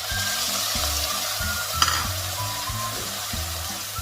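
Shrimp paste dissolved in water goes into a hot pan of pork being stir-fried with long beans, giving a steady, close sizzle with stirring scrapes over soft background music.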